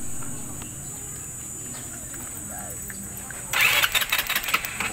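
A Honda ER150N motorcycle with its CDI converted to battery operation starts up, the engine catching partway through and running with loud, uneven revving after a quiet stretch.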